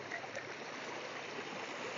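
Rainwater rushes steadily along a road during heavy rain, a continuous even wash heard alone at moderate volume.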